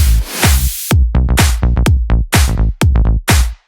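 A punchy synth bass riff with short plucky notes, each bright attack quickly softening, played loud in a bouncy rhythm.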